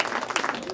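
Applause from the audience at an all-India mushaira poetry gathering in Sangareddy, a dense, steady wash of clapping that fills the short moment at a moderate level.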